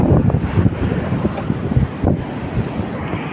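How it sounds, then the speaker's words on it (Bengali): Strong wind gusts across a stormy seashore with rough, churning sea, roaring steadily and buffeting the microphone up close, with the wash of surf blended underneath and no talking. "বাইরে কিন্তু প্রচণ্ড হাওয়া"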